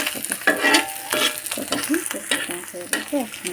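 Small fish are stirred and fried in a pan, with a continuous sizzle broken by repeated scraping strokes of the spatula close by, several stirs in quick succession.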